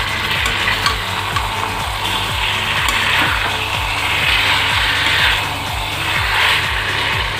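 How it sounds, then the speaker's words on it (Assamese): Salted chicken pieces frying in hot oil in a pan for chicken curry, with a steady close sizzle, stirring noises and a regular low ticking underneath; no one speaks. "এনেই ভাজি ল'ম অলপ সময়"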